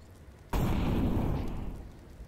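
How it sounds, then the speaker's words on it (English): A flashbang grenade goes off in CS:GO with one sudden loud bang. A long, rumbling ring-out follows and slowly fades, and no one speaks. "Grim's going to get the audio cue of a flashbang clear in middle"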